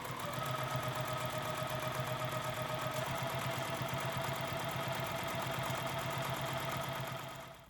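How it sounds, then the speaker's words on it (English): A sewing machine stitching steadily through thick quilted layers of an oven mitt, giving a continuous, even mechanical hum with a fast rapid needle rhythm that runs unbroken for several seconds before easing off at the end. "we're going to sew all the way around using a 1/4 inch seam and then back stitch at the end"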